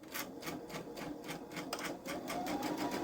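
A Babylock Solaris 3 sewing machine quilting a pillow front runs at a fast, even stitching rhythm with a fine mechanical chatter, steady and close throughout.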